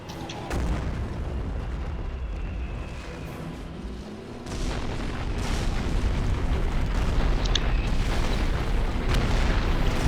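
Walking Stuka rocket artillery barrage in the Company of Heroes video game, set in Operation Market Garden: a dense, continuous roar of rumbling explosions and booms, thickening after a brief lull midway.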